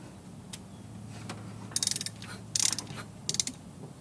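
A 5mm Allen key tightens a coolant temperature sensor on a Hemi-swapped 1966 Plymouth Belvedere, giving three quick bursts of close, sharp ratcheting clicks over a low steady hum, with no talking.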